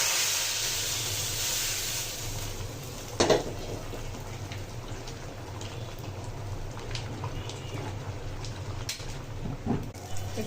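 A tempering of onion, garlic, dried chilli and cumin hisses in hot oil for a red lentil and egg dish. The steady sizzle is loudest at first, then settles, with one clatter of a utensil and no talking.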